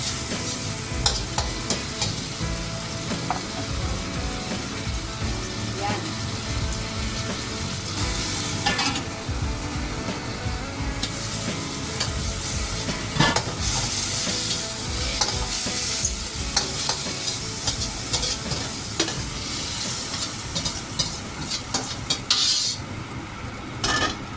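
Cuttlefish cooking in a pan, a steady close sizzle running throughout, with frequent stirring strokes and occasional metallic clinks of a utensil against the pan.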